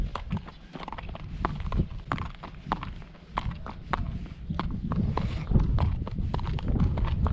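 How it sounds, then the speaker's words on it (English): A calm horse walks toward distant mountains, its hooves clip-clopping in a steady, close rhythm that runs throughout with no voices. "I'm walking towards the mountains with a nice horse"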